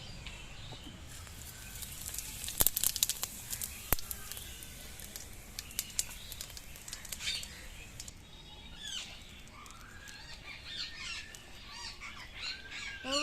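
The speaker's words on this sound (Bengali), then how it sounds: "এবার ওই একই তেলের মধ্যে আমি এখানে জিরে নিয়ে নিয়েছি, গোটা জিরে ফোড়নে দিয়ে দেবো।" Whole cumin seeds crackle and sizzle in hot oil left over from frying potatoes, with a soft, constant hiss and scattered sharp pops and spits, fairly close and unaccompanied by talk.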